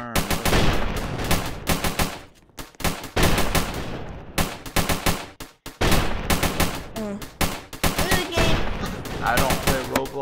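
Rapid bursts of automatic machine gun fire from a Roblox Tower Battles tower game, loud and dense, firing in long strings with brief pauses throughout.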